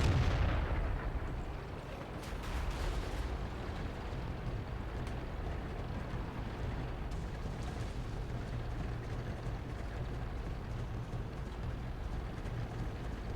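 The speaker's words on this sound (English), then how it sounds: "these guys are getting hammered by artillery" Artillery shells pound a cluster of tanks in the World of Tanks video game: a heavy blast at the start, then a dense, continuous rumble of distant impacts and battle noise, with no voices.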